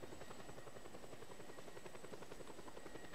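A helicopter in the Just Cause 2 video game flies with a steady, rapid rotor chop and engine whine, constant and faint throughout.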